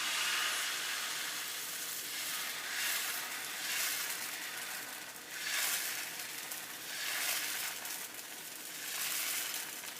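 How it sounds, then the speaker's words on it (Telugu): Oats and buttermilk dosa batter cooks on a hot pan with a quiet, even hiss that swells and fades in slow waves, heard alone. "సో ఇప్పుడు మనం దోశ వేద్దాం."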